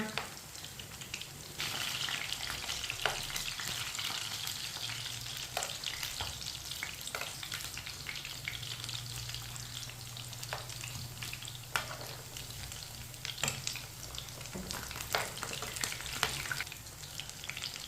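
Chapli kebabs frying in a pan, a steady close sizzle running throughout with occasional clicks and scrapes of turning, no voices.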